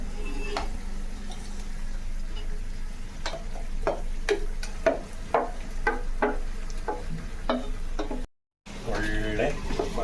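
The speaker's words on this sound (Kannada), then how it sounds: "ಒಳ್ಳೆ ಮಸಾಲ ಮಿಕ್ಸ್ ಆಗಿ ಆಯಿಲ್ ಎಲ್ಲ ಈರ್ತಾ ಇದೆ ಲೋ ಫ್ಲೇಮಲ್ಲಿ ನೋಡಿ" Ground masala paste frying in oil on a low flame for a village-style chicken curry, a steady soft sizzle broken by repeated sharp ladle scrapes and taps against the pan, close and moderately loud, with one brief cut near the end.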